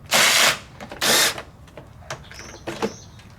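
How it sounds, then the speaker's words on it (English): A power tool backs the studs out of a Kohler 149cc XT engine on a Lawn-Boy mower in two loud, sharp bursts, followed by quieter clicks and mechanical rattling. "we're just going to take out all the studs"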